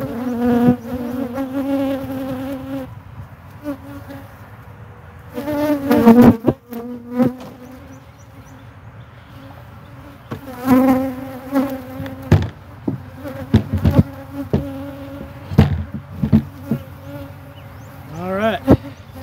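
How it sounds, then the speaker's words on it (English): Honeybees at an open Layens hive buzz steadily and close by, with individual bees droning past in pitched passes over a continuous hum; occasional knocks and clatter of hive equipment punctuate it. "mild-mannered bees generally go back to what they've been doing when you close up their hive"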